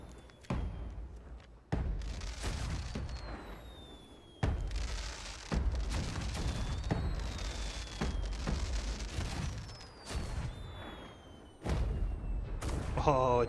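Chicken-shaped fireworks burst in a video game, sounding as a string of sharp booming thumps spaced a second or two apart, each tailing off into a crackle, with a few whistling streaks and a person talking between blasts.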